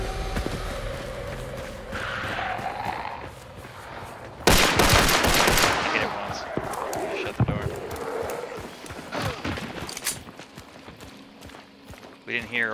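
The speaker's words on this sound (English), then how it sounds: "Oh yeah, shotguns." Shotgun gunfire in a multiplayer video game, with a loud burst of blasts in the middle over busy game noise, footsteps and clattering, while players talk throughout.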